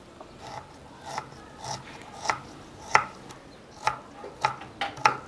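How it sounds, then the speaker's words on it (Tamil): A knife finely chopping a piece of ginger on a board, a steady run of close, crisp cuts at an irregular quick rhythm over light room noise, no voices. "அடுத்தது நம்ம 1 துண்டு இஞ்சி பொடியாக கட் பண்ணிக்கலாம்."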